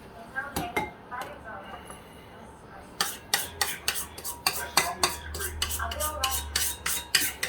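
Metal spoons clink and clatter against dishes in a home kitchen while a rainbow angel food cake is prepared, starting with a few scattered taps and then becoming a rapid, near run of sharp clinks.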